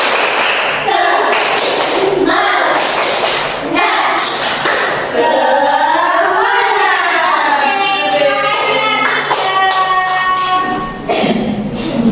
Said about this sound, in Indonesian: Kita sama-sama tepuk semangat ya.